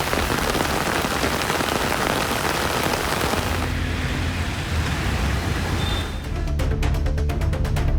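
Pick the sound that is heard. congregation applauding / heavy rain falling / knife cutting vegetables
heavy rain falling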